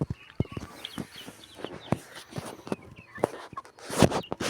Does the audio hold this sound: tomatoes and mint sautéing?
no